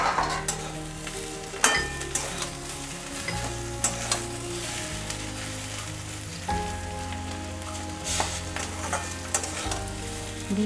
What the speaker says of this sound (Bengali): দিয়ে কিছুক্ষণ একটু নাড়াচাড়া করি।